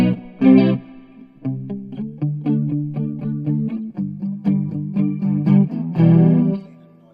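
Oakcaster 16 headless travel guitar with a single-coil pickup, played in chords that switch from a clean tone to a noisy distorted one and back, loud with effects-laden sustain and no talking.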